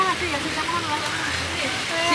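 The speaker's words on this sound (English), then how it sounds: "We're just gonna pray for it to stop raining" Steady rain falls on a beach, a dense continuous hiss that holds at an even level throughout, with a faint voice murmuring underneath.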